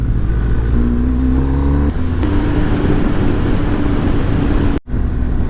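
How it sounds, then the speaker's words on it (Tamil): Car accelerating to overtake another vehicle while passing through a small town, a loud steady engine drone with a rising tone throughout, broken by a brief dropout near the end. "சங்கர் சார், நான் உங்களை கொஞ்சம் ஓவர்டேக் பண்ணிக்கிறேன்."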